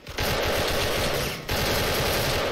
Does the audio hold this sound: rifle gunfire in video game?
yes